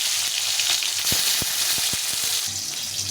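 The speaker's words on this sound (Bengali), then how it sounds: "এখন এই তেলে টমেটোটা দিয়ে দেবো" Tomato frying in oil in a pan, a steady close sizzle and crackle with several sharp pops and spatters scattered through it, no voices.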